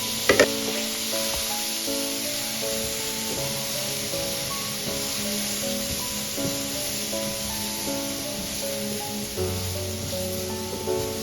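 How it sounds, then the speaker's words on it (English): Potatoes sizzling in the same pan just used to cook steak, a quiet, steady frying hiss with a few sharp pops near the start, while faint background music plays underneath. "we got the same pan that we cooked our steak in. We're going to go ahead and put our potatoes down"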